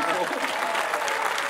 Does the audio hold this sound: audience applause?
yes